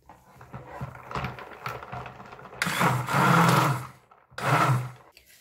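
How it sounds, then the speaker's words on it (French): Electric whisk whipping goat milk body cream, a buzzing motor whir that starts and stops in bursts, the loudest runs lasting about a second, close by. "je peux déjà fouetter avec mon appareil"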